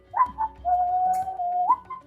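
Someone whistles a short, wavering tune, a few bright notes with one long sustained pitch, close and clear.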